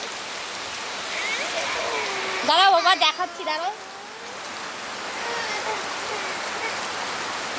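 Steady heavy rain falls during a days-long downpour with flooding around a house, a continuous broadband wash throughout while a person speaks briefly over it midway.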